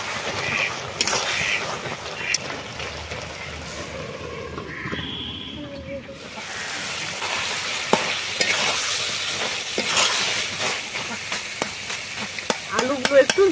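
Boiled potatoes fry in a pan with mustard and cumin paste, a crackling sizzle building with stirring and scraping, some clanks toward the end.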